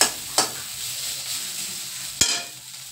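Cauliflower frying in a pan, a steady close sizzle with two sharp stirring clatters of a utensil against the pan, no voices.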